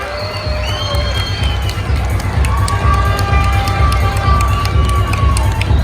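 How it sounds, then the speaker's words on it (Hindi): Crowd at an Independence Day celebration in the Pakistani embassy in Riyadh claps and cheers loudly and continuously, with voices calling out across the hall, steady throughout. "मैं चाहूंगा कि सऊदी शरीफ के लिए जोरदार ताली होनी चाहिए"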